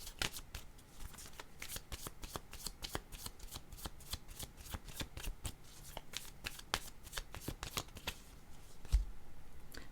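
Tarot cards are shuffled in a rapid, continuous riffle of crisp flicks and slaps. The sound is close and fairly quiet, and it runs steadily the whole time.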